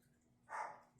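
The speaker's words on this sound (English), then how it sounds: "my dog is barking" A single short bark from a small dog indoors, muffled and moderately loud, rising and fading within half a second against a quiet room.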